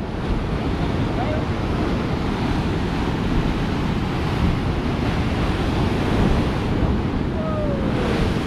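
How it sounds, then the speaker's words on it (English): Rough, wild sea surf crashing and churning at Whitley Bay on a cold, sunny day, a continuous loud roar of breaking waves close by with gusting wind buffeting the microphone. "I don't know what's happened to the sea. It's gone crazy."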